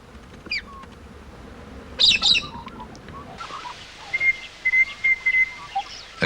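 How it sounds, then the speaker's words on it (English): Morning bird chorus of galahs gathered to drink at an outback waterhole, with scattered chirps, a brief burst of calls, then a run of short, repeated whistled notes at moderate distance. "The morning chorus proves that there are many more varieties of birds in this district"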